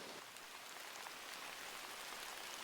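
Steady rain falls with an even, dense hiss of drops hitting surfaces, faint and unbroken throughout, with no voices.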